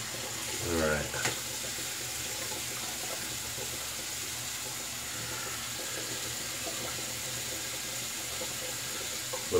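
Tap water running steadily into a sink to rinse and soak a shaving brush, a continuous close splashing hiss with a brief burst of sloshing near the start.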